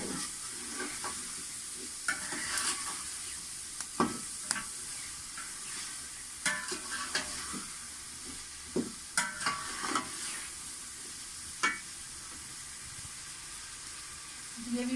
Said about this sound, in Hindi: तो साथ ही मैं इसके आलू ऐड कर दूँगी। ये भी अच्छे से धो के काट लिए थे। तो ये अच्छे से इन्हें फ्राई करेंगे।